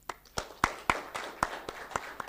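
Audience at a policy conference giving a round of applause: sparse, distinct claps in an uneven rhythm, a handful of sharp slaps rising over a quiet room rather than a full ovation.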